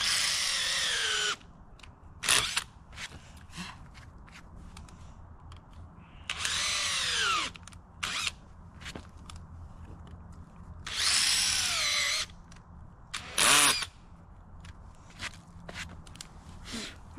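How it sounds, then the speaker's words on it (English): A power drill drilling into a tree stump whines in several separate bursts, winding up and slowing down between them, with quieter shuffling and handling noises in the gaps. "The more I drill, the more chemicals I can get inside and help it deteriorate faster."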